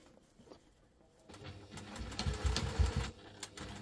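A sewing machine stitching a double-compartment crossbody bag: a quiet start with faint clicks, then a rising close motor whir with rapid needle chatter running for about two seconds.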